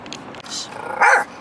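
Dog inside a car giving a short growling bark and then a louder yelping bark right after the horn was blown, close and brief.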